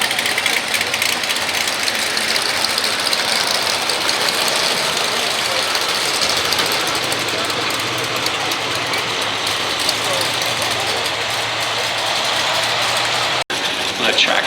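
A 540 cubic inch pulling tractor at a truck and tractor pull in Snyder County, Pennsylvania, runs with a loud, steady engine roar that lasts throughout, while an announcer's voice carries over it.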